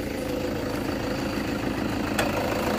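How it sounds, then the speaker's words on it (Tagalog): A diesel engine of a 2014 Toyota Fortuner G SUV idles steadily with a low, even rumble and a faint rattle, close by and continuous. "Ito yung kanyang makina."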